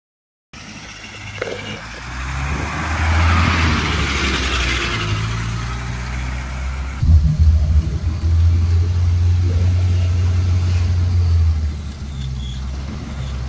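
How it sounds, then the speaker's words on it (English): A 1981 Toyota BJ42 diesel Land Cruiser on a test drive, its engine droning steadily from inside the cab with a low rumble that swells when the vehicle accelerates partway through. "if you ever wanted to go on a test drive and see what it's like to drive one of the coolest, the very best four-wheel drive vehicles in the world"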